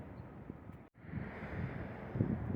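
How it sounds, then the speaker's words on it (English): Strong wind buffeting the microphone at the Titanic slipway in Belfast, a steady rushing roar with gusty low thumps and one brief dropout. "I hope you can hear me over the wind"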